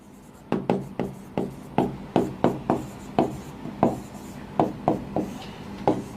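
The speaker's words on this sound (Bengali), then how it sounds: "কি দেওয়া আছে সেটা আমরা লিখে ফেলি।" Pen writing on paper during a trigonometry and physics math lecture, a rapid series of sharp scratchy strokes and taps in an uneven rhythm, close and clear with no talking over it.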